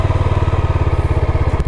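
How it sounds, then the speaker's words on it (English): A Yezdi Scrambler motorcycle exhaust idles close by with a steady, rapid pulsing putter, loud and even, with no voices. "let me just turn on the motorcycle and make you hear the exhaust sound"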